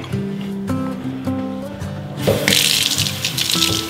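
Cold tap water gushes loudly into a bowl to rinse homemade cultured butter, preceded by a few clinks and knocks of kitchenware before the strong, steady flow takes over.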